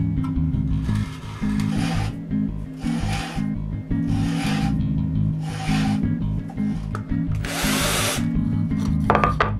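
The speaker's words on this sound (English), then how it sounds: "Then I tap all the biggest tiers and the bases." A power drill tapping threads in wooden cupcake tower tiers and bases buzzes in repeated short bursts, each run followed by a pause, with a rasping, grinding edge as it cuts into material.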